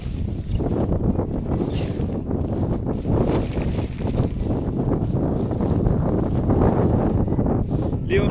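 Strong mountain wind on snowy Guanshan buffets a microphone in heavy gusting rumbles while a tent is folded, with rustling fabric beneath the loud, continuous blasts.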